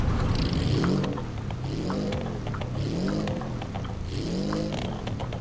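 A rear-engined car in the BeamNG.drive driving game runs in neutral, its engine note swelling and falling in slow repeated cycles, steady and moderately loud with no talk.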